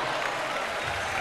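A basketball crowd cheers and applauds in a steady, dense roar that fills the arena without a break and sits fairly close.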